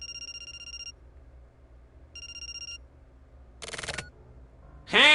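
A telephone rings in the video game The 25th Ward: The Silver Case, two bursts of a bright electronic ring separated by a pause over a quiet ambient hum, followed by louder noisy effects near the end.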